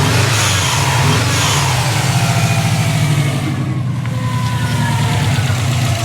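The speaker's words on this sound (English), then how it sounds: "And just rev your car up" Turbocharged car engine revving up and down close by, a loud throbbing mid-range note with repeated swells over a steady idle, no talk.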